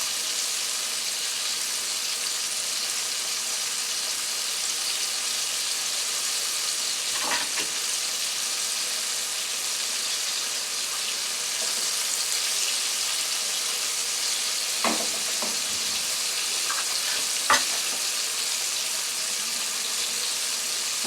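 Chicken wings coated in whole wheat flour fry steadily in hot oil on a gas stove, a constant loud sizzle with a few faint clicks and clatters, no voices.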